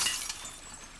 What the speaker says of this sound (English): Just gonna break this glass.